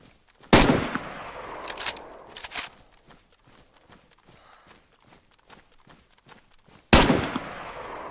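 Two loud, sharp rifle shots from a Tundra in DayZ, one near the start and one near the end, each with a brief ringing tail, separated by quieter shuffling and movement sounds.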